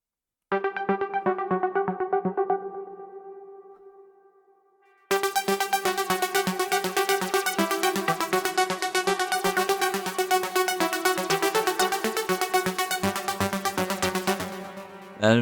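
A song melody rearranged in another style: a sparse keyboard melody fades out, then after a short gap a dense, full arrangement of rapid repeated notes plays loudly and steadily to the end, with no voices.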